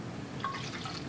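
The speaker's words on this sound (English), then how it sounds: "we'll go ahead and rinse out the graduated cylinder. We'll add another 25 milliliters or so of water to that." Water is poured into a glass graduated cylinder to rinse it in a chemistry lab, giving a soft, close trickle with a brief bright splashing drip partway through.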